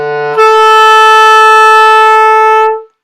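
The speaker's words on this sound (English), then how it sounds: "If you're not firm, it'll sound like this." A clarinet plays a low note that jumps to a higher sustained tone with a spread, flat quality from a loose tongue, loud and close with no voices, holding steady for about two seconds before stopping.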